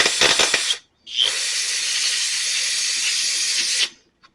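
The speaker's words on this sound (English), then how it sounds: "Actually, I got some carburetor cleaner right here." Carburetor cleaner sprayed from an aerosol can onto EZ GO golf cart parts: a short hissing burst, a brief pause, then one longer steady spray of about three seconds that stops abruptly.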